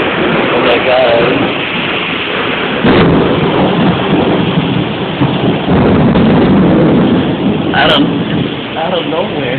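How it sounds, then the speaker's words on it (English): Sudden tropical thunderstorm in Juana Díaz, with steady loud rain and rumbling thunder throughout and a sharp crack partway in; a person talks excitedly over it. "Y'all hear that thunder?"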